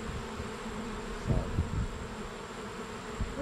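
Honeybees buzz around an open ten-frame hive, a dense steady hum close by with a few louder passes of individual bees.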